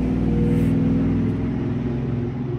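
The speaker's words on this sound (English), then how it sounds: "Oh my gosh, the traffic noise is so loud." Loud road traffic outside an antique shop in Lancaster: a steady, heavy engine rumble with a droning hum, like vehicles passing or idling close by, continuous for the whole stretch with no talk.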